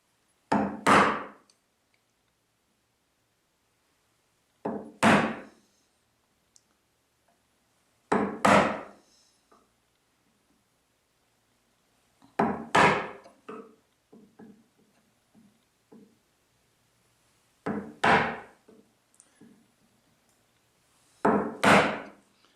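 Chisel blows outlining a nut mortise in wood for a Moxon vise, six sharp, loud strikes with several seconds of quiet between them, some followed by small ticks and taps.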